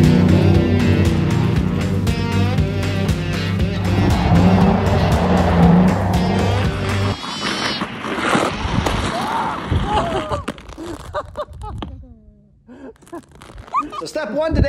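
A truck driven on slick, icy roads, its engine revving hard with tires squealing and skidding, loud and close throughout before easing off near the end.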